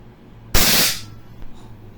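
WE Glock 18C Gen 4 airsoft pistol fired on full auto, one loud, sharp, close burst about half a second long that cuts off abruptly into quiet room tone.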